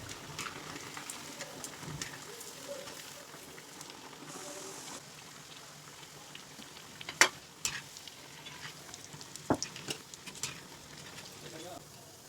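Kakera dumplings deep-fry in hot oil with a steady soft sizzle and bubbling, broken by a few sharp metal clinks of a utensil against the pan; close, fairly quiet, and without speech.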